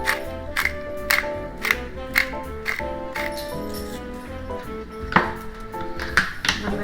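Black peppercorns being ground: a steady series of crisp, gritty clicks and crunches, repeating roughly twice a second, close and clear over a faint tonal background.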